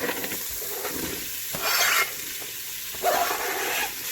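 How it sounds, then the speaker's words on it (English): Carrots and onions frying in melted butter in a pan, a steady close sizzle with stirring scrapes and two brief louder bursts of hissing. "We're just going to let that melt down and cook these veggies for about 5 minutes."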